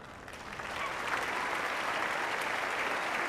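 Tennis spectators packing Court One break into sustained applause, a dense steady wash of clapping that swells after a moment and holds loud, no voices standing out.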